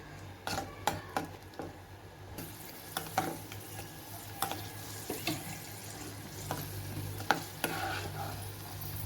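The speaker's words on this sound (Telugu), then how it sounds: "ఇవి ఇలా ఫ్రై అయిన తర్వాత బాగా బబుల్స్ లాగా వస్తాయి" Ingredients for Bandar laddu frying in a pan of hot oil, a soft bubbling sizzle under repeated scraping and stirring clinks of a utensil against the pan, close and fairly quiet.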